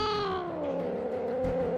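A cat in Minecraft lets out one drawn-out, angry caterwauling meow that slides downward in pitch, loud and close with no voices over it.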